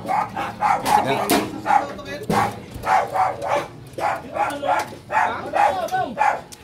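A dog barks repeatedly in a steady run of sharp yaps, fairly close, with other noises and a bit of talk mixed in.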